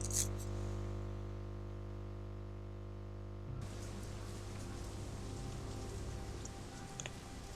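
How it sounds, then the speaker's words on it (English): Steady rain falls in the video game Shadowrun: Hong Kong, a continuous hissing wash that shifts to a rougher, denser patter midway, with a low hum underneath and no voices. "Foul, oily water rains down from above"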